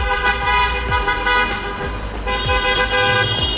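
Cars in a wedding procession in Chita honk their horns continuously, several overlapping toots blaring close by over passing traffic, with no talking.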